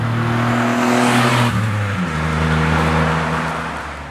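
A 1980s Suzuki-GM car engine revs hard and close, holding a steady high whine before the pitch drops sharply around the midpoint and settles into a lower drone that fades slightly at the end.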